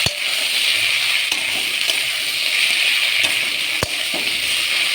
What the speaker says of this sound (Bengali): এই যে শাকটা ঢেলে দিলাম, ভাজা হয়ে গেছে পেঁয়াজ রসুনটা। এবার ঢেলে দিচ্ছি শাকটা।